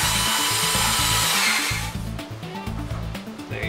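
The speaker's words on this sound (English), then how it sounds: "Now we're going to use our 3/8 inch spade bit to drill some of the holes." A power drill fitted with a 3/8 inch spade bit bores holes into a plastic bucket for a self-watering container, a loud close whine pulsing in short bursts, then trailing off into lighter rhythmic grinding.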